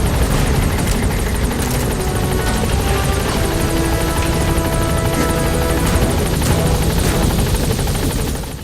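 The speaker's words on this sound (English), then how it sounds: "Support helicopter has arrived." A support helicopter arrives in Metal Gear Solid 5, its rotor chop and turbine whine forming a loud, dense, unbroken roar that holds steady throughout and eases off only at the very end.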